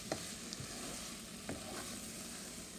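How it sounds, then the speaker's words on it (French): Minced meat cooks in a pan with a steady, moderate sizzle, broken by a couple of soft stirring scrapes. "Et je continue à cuire la viande hachée."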